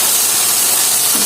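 Onions frying in oil with salt for a duck curry, a steady close hiss and sizzle filling the short moment without any talking.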